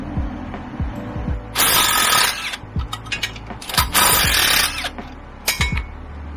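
A Milwaukee power tool runs in several loud, close bursts of whirring with brief pauses between them, used on a car during an engine oil leak repair, alongside clanks and ratcheting clicks and no speech.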